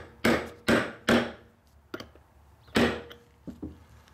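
A hammer whacks a deep socket while a cap is fitted onto a Nelson Rain Train 1865 lawn sprinkler: three quick sharp knocks, a pause, then a lighter tap and two more hits, close and clear.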